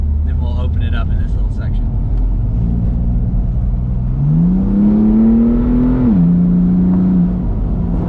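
An Aston Martin V8 Vantage and a BMW M4 on a Tennessee mountain road give a loud, close engine drone that climbs in pitch as they accelerate, then eases back after a gear change.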